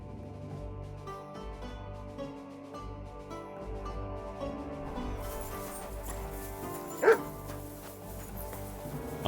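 Dog barking in a fantasy adventure video game, a few short yipping barks and whimpers over layered game music and ambience, with one sharper bark standing out near the end.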